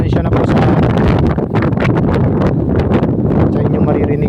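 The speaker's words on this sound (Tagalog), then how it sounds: "Ay, malakas nga po palang hangin, pasensya na po sa" Strong wind buffeting the microphone in a loud, steady rumbling roar with gusty swells throughout, outdoors while fishing.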